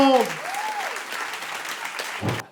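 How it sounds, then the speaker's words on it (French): Steady applause from a crowd fills the clip, with a voice speaking and another calling out over it at the start. "On les applaudit, s'il vous plaît."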